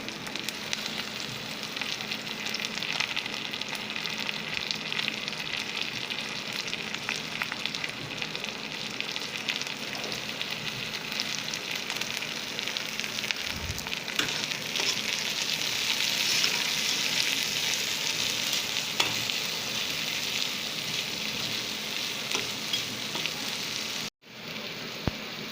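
Chili and onion fry in a pan with a steady, dense sizzle that runs close and even throughout and grows slightly brighter midway, with brief stirring noises and a sudden cutoff near the end; no one speaks.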